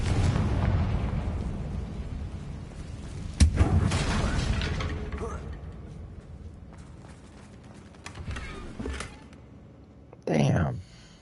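A Confringo spell blast in the video game Hogwarts Legacy, aimed at a battered bridge, lands as a sharp, loud boom about a third of the way in. Game ambience and rumbling continue around it, and a second burst comes near the end.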